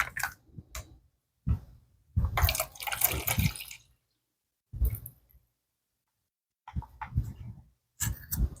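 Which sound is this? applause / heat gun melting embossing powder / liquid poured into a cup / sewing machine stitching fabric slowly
liquid poured into a cup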